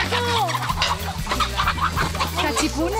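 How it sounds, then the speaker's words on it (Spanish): Chickens cluck in a busy, close chorus of short repeated calls over low steady background music. "cuidado con las gallinas"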